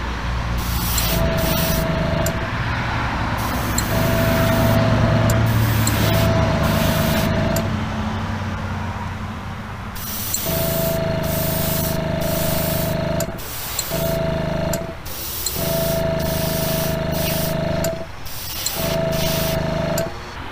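Spray paint hisses in long steady bursts with short pauses, laying a coat on a custom Hot Wheels Bone Shaker toy car, close and loud with a faint tone running through each burst.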